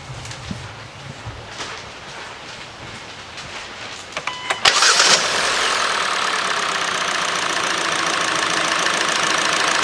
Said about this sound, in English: Okay, let's start it up.